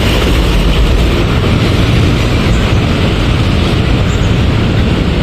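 A loud, continuous rumble and roar of a passing LRT light rail train near the National Museum in Manila fills the whole stretch, broad and steady like rail cars rolling past nearby.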